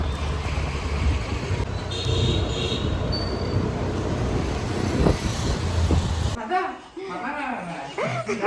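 Rushing road and wind noise from a vehicle moving fast, steady and loud for most of the stretch before dropping away near the end, with someone speaking over it.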